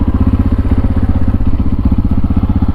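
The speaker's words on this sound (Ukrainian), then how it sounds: "Нехай трішки попрацює на холостому і тоді будемо глушити." A Tekken 250 motorcycle engine idles up close, a loud, steady, rapid chugging pulse that stays even throughout with no talk.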